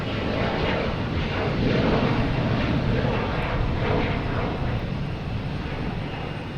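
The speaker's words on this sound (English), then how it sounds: "This is an American landing in 2 seconds." An American Airlines jet lands at Boston Logan Airport with a loud, continuous engine roar that stays steady throughout.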